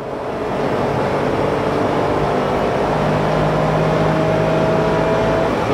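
A Mitsubishi i (HA1W) mid-engine kei car revs hard under full throttle while merging, the engine note climbing steadily and loudly to high rpm over road noise from inside the cabin.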